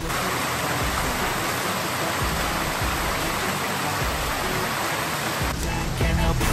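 Vražední potok creek flowing beside a shelter, a steady, loud, broadband rush of water filling the whole stretch, with a brief extra splash or rustle near the end.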